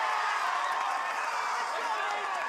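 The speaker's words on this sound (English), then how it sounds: "showing some love to his cheering section. Man, those Iowa boys can make some noise now, can't they?" An Iowa cheering section roars at an American Ninja Warrior course, a steady, dense wall of crowd cheering and shouting that holds at a constant level throughout.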